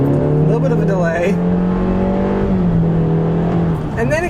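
A 2020 Honda CR-V with a CVT pulls away in sport mode on a back road, its engine drone rising steadily and close for several seconds with a smooth, continuous tone while someone talks over it.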